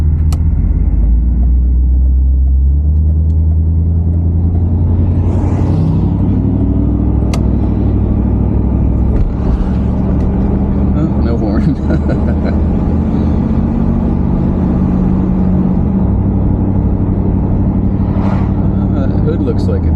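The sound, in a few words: old barn find Buick car engine running while driving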